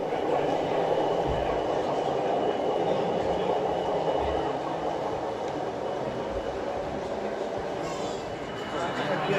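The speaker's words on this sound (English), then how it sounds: "Here we see a Class 40 making its way from one end of the layout to the shed at the other end" A DCC-equipped model Class 40 locomotive runs along an exhibition layout, giving a steady low rumbling hum with faint rail clatter, heard against a busy hall background.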